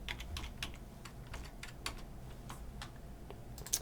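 Fingers tap on a computer keyboard at an irregular pace, with a quiet run of nearby clicks and an occasional stronger keystroke, and nobody speaking.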